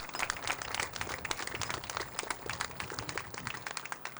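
An outdoor crowd at a Route 66 gas station ceremony claps for a sign company, a dense, fairly faint patter of many hands that runs on steadily without voices.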